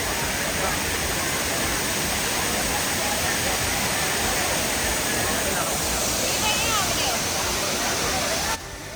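The Areekal waterfall in Ernakulam roars as a steady, loud, broad rush of falling water that does not let up, with a faint murmur of distant voices beneath it.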